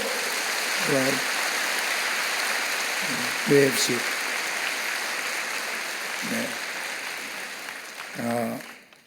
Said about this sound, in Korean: 여러분 그의 박수로 환영하시지요?